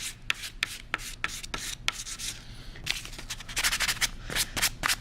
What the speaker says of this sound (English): You can sand it like that or like this.